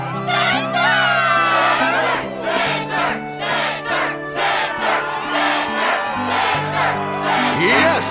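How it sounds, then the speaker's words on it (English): A game crowd cheering in Kingdom Hearts II, a loud sustained roar of shouting and whooping voices over steady sustained background music tones. "Yes, the crowd is fired up,"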